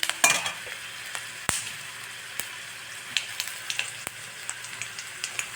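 Mustard seeds, urad dal, ginger, turmeric and curry leaves fry in hot oil, giving a close crackling sizzle punctuated by sharp, scattered pops and spits, with no talk.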